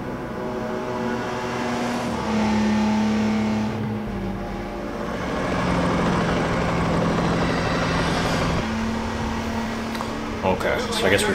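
A car engine drones steadily and loudly as the car drives in James Bond 007 Agent Under Fire on GameCube. The pitch holds and swells slightly, with faint mechanical tones mixed in.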